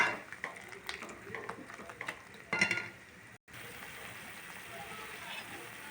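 Chili powder being stirred into a simmering curry in a pan, with a soft sizzle and bubbling plus a few scraping stirs and spoon clinks; close and moderately quiet, with a brief drop to silence midway.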